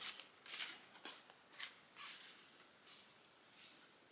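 A deck of playing cards is shuffled by hand in a quiet room, making a run of short, faint papery riffles and flutters in uneven bursts.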